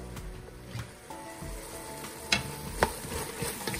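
A spoon stirring pasta with zucchini in a cooking pot, with soft sizzling underneath and a couple of sharper scraping knocks against the pot.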